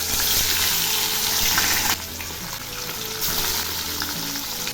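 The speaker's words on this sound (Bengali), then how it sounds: "তেল গরম হয়েছে, এবার আমি মাছগুলো ছেড়ে দিচ্ছি।" Fish pieces dropped into hot mustard oil in a kadai crackle and sizzle loudly and continuously, the hiss dipping briefly partway through and then building again, with no talk.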